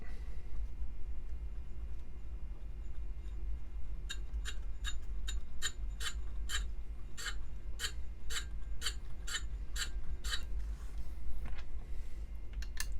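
Turin DF64E coffee grinder fitted with SSP burrs spins up after installation, giving a steady low hum with a run of regular, sharp ticking scrapes partway through, close by and with no talking.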